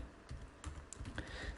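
An email address being typed on a computer keyboard, quick light key taps in an irregular run, close and fairly quiet.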